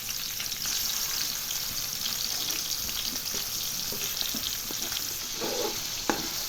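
Tomatoes fry in a pan with a steady, dense sizzle throughout, broken by faint stirring scrapes and a sharp click near the end.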